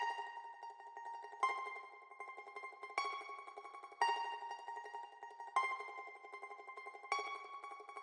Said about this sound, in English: this ukulele pattern sounds like this